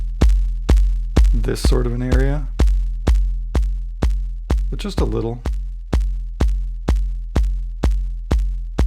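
Overdriven kick drum from an Elektron Digitakt, with saturation adding grit, repeating in a steady four-on-the-floor pulse of loud, punchy booming hits that decay quickly, while a person talks briefly over the beat twice.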